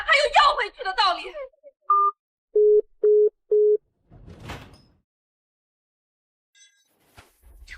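Right after an angry phone call is hung up, three short, even telephone beeps sound, like a busy or hang-up tone. Speech comes before them and a brief rustle follows.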